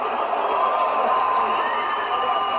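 A boxing event crowd cheers and roars, a dense, sustained wash of shouting and excited voices filling a large arena, loud and continuous throughout.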